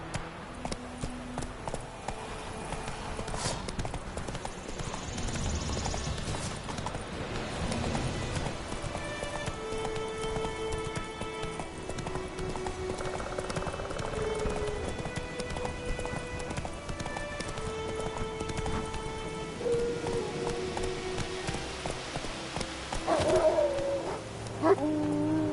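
Geralt's horse gallops in The Witcher 3: Wild Hunt, with a long, steady run of rapid hoofbeats, close and continuous, laid over music and ambient game sounds.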